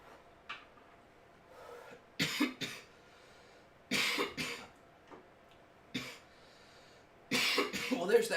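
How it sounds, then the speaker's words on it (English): A person coughs several times in short bursts, with throat clearing and faint background noise between the fits, close to the microphone. "there's that cough"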